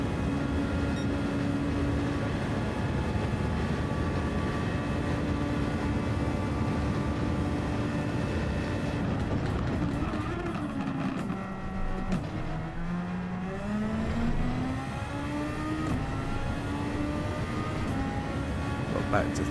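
A race car engine in Gran Turismo 7 drones steadily at high revs, then dips and climbs again through a gear change, loud and continuous with a voice talking over it.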